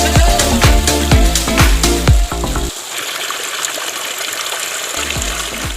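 Hot spring water pours steadily into a prepared basin, making a continuous close rushing wash; music-like tones ring over the first half before the water sound is left alone.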